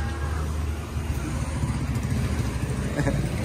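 A 2005 Kawasaki HD3 motorcycle engine runs steadily close by, a constant low rumbling idle with no clear revving, filling the short stretch.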